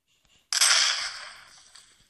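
Gun firing in the Minecraft PE Desnogun mod video game: one sudden loud blast bursts in after a near-silent start and then trails off in a long, hissing decay.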